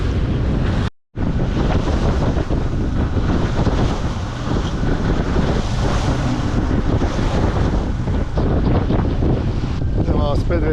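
Strong wind buffets a sailboat at sea near an island off Phuket, Thailand, with loud continuous roaring gusts and microphone rumble blending with water and surf wash, briefly cutting out once near the start.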